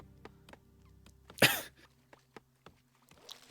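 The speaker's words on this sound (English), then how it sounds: "Got a little cough there, huh?" A single sharp cough bursts out over quiet Warcraft III game sounds, loud and close, followed by soft clicks and faint background noise.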